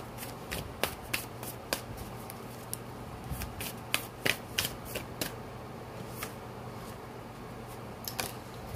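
Spirit oracle cards are shuffled and drawn by hand in a quiet room, giving repeated crisp riffling snaps and flicks in irregular bursts, close up with no talking.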